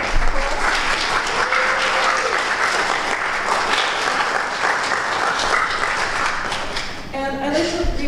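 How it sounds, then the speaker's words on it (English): Sustained, loud applause from the audience at a start-up challenge pitch night, greeting the finalists, with a voice briefly rising over the clapping near the end. "Can we all give them a round of applause?"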